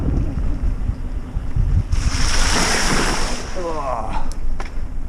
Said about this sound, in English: here comes some water